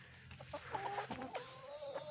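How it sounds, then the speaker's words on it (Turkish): A broody turkey hen clucks repeatedly in short, nasal bursts with occasional drawn-out tones, close by, over a faint rustling background. "Bu Hint tavuğu da sanırım gurk olacak. Gurklayıp duruyor."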